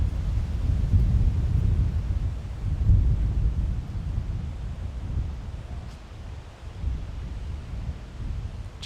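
Wind on a disc golf course, blowing as a steady low rumbling roar across the microphone with gusts swelling and easing throughout.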